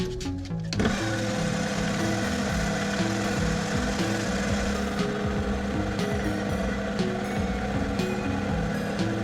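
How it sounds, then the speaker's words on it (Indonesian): A drill bores a hole into a Black Panther valve piston, a loud steady whir with grinding texture that starts abruptly after a brief clatter and runs unbroken to the end. "Sekitar 12 mili kita bor 8 mili saja."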